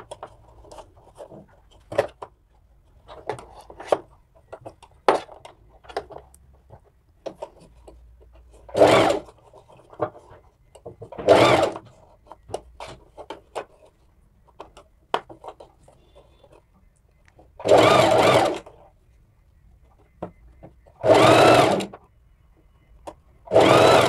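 Sewing machine stitching a princess cut blouse in bursts, short quick runs and several longer steady whirs spread across the clip, with quieter handling clicks and rustles in between and no talking.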